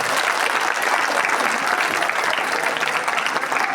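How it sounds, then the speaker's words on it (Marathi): Students at a gathering applaud loudly for themselves, a dense, sustained roar of clapping filling the room evenly from start to finish. "आता स्वतःसाठी जोरदार टाळ्या वाजवा."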